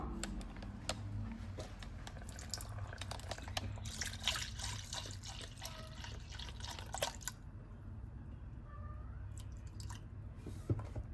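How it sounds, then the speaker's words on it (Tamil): Milk pours into masala tea as a gentle liquid trickle with scattered drips and splashes. It is close and fairly quiet, steady, and then eases off toward the end, with no voices. "இந்த ஸ்டேஜில் நம்ம இப்போ பால் ஊற்றிக்கலாம்."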